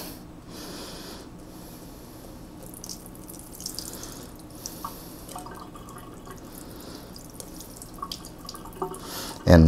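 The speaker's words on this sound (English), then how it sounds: "you're going to want to drain your rice." Water from freshly washed rice is drained from a bowl, giving a soft, continuous trickle and splash at close range, with occasional small drips and clinks and a louder knock at the very end.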